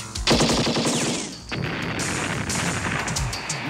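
Loud, continuous machine-gun fire from a movie trailer rattles in fast repeated bursts, briefly dipping midway before resuming at full intensity, with no talk over it.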